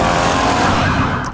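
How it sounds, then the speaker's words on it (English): Sirens in the opening of a The Last of Us TV episode, set two days before the outbreak: a short, loud, steady wail under a dense rumble of city noise, with no voices. "you can already hear sirens starting."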